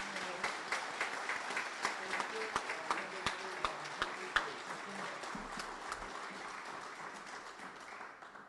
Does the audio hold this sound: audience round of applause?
yes